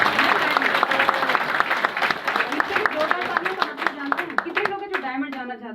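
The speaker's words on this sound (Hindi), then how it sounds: "एक बार जोरदार तालियां हमारे ग्रेट एंड ग्रेट अपलाइन" An audience at an indoor gathering claps loudly and continuously, and a few voices call out over the applause as it gradually thins.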